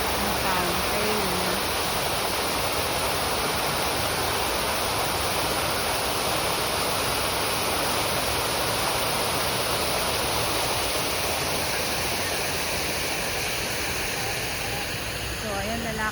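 A fountain at Plaza de España in Madrid splashes continuously in a dense, even wash of falling water, with faint voices audible underneath throughout.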